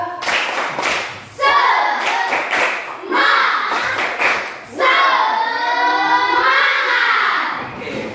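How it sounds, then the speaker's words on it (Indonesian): A school class performs the tepuk semangat clapping chant, with loud rhythmic group clapping in patterned bursts alongside children's chanting voices. "Tepuk semangat!"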